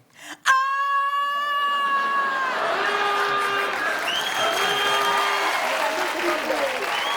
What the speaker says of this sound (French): On applaudit Amélie Grenier.